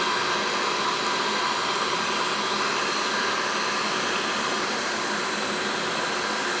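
A heat gun blows on vinyl wrap over a car fender, making a constant airy roar that stays even and close the whole time, with no voices.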